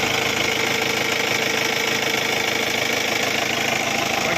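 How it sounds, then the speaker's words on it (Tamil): A 2013 Mahindra Bolero diesel pickup idles, its engine giving a steady, loud, unbroken rumble with a faint knocking texture throughout, and no voices over it. "வண்டி இன்ஜின் நாய்ஸை கேட்டுக்கோங்க."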